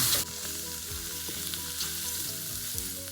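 Shiitake mushrooms fry steadily in a pan, a dense continuous sizzle with faint stirring scrapes, loud and close throughout after a brief louder burst at the start.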